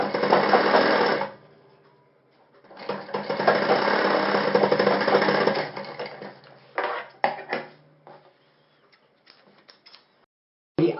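A sewing machine stitches a shirt collar in short runs, a close, loud mechanical whir that starts and stops several times, with brief clicks and pauses between bursts.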